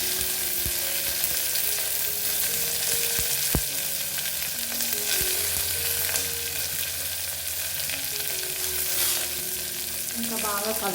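Onions, green chilies and mint fry in a pot for a one-pot totakura pulao, a steady loud sizzle with occasional scraping clinks of stirring throughout.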